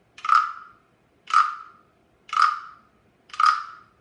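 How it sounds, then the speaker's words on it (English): A wooden frog güiro has a stick scraped across its ridged back, giving four evenly spaced croaking rasps, each short and sharp and heard close with quiet between them. "You scrape the stick across his back and the frog will croak for you."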